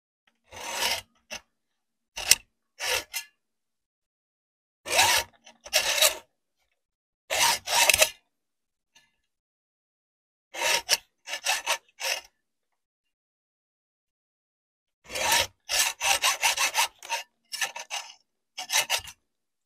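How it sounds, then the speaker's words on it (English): A hacksaw cuts off part of a laptop hinge in short bursts of rasping back-and-forth strokes, each burst a few quick scrapes separated by silent pauses, close and fairly loud with no talking. "And we just need to cut this off. I use my hacksaw."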